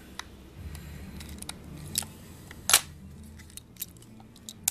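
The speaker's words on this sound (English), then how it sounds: "I only see one screw. Phillips jeweler style screwdriver." A small Phillips jeweler screwdriver unscrewing the single screw of a cheap washing-machine water alarm, giving faint, scattered metallic clicks and scrapes with one louder snap, close up and with no talking.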